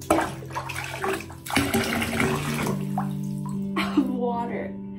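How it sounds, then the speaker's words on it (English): Water pours from a tap into a bathtub being filled for a dog's bath at home, a steady splashing flow with muffled voices and some tonal sounds over it. "I'm gonna turn on the water and then I'll be right back"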